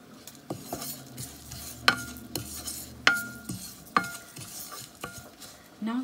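Coconut, sesame seeds and cumin roast in a pan, a soft dry sizzle under repeated metal spoon scrapes and taps against the pan, clear and close without talk.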